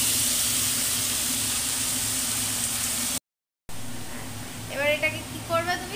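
Snake gourd added to a pan of deep-fried onions, a steady loud hiss of sizzling oil filling the scene, briefly cut off, then continuing as a voice starts speaking over it.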